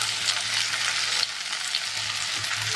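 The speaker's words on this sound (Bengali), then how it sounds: "এবার আলু ঢেঁড়স ভালো করে ভেজে নেব।" Potatoes and okra fry in a pan with a steady, dense sizzle throughout, close and fairly loud, no voices.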